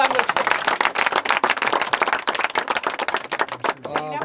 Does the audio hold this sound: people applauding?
yes